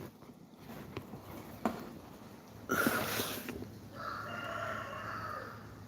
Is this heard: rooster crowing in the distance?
yes